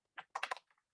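A few quick keystrokes on a computer keyboard, short close clicks bunched together in a quiet room, with no voices.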